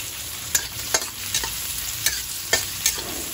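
Garlic sautéing in a pan for ginisang miso with vegetables: a constant sizzle broken by about six sharp scrapes and clanks of stirring, spaced unevenly, with no voices.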